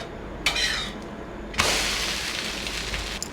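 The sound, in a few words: flipping mudakathan dosa on a pan with oil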